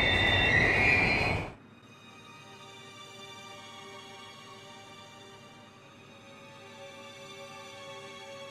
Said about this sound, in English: Sparks fly as the train slams on its brakes.